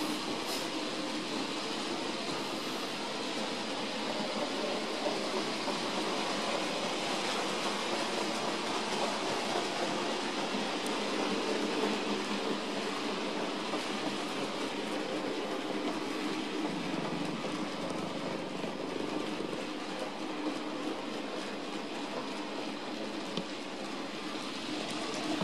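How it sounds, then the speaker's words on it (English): A Bachmann C Class model locomotive in wartime grey pulls a few traditional wagons around a corner and over a level crossing, giving a steady, continuous rolling rumble with faint rail clatter, no talk. "see the train just taking the corner across the level crossing."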